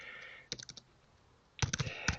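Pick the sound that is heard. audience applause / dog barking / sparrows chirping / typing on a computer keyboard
typing on a computer keyboard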